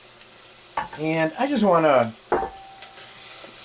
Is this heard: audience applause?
no